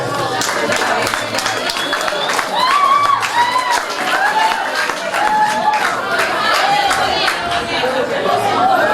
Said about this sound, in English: Please give your organization a round of applause.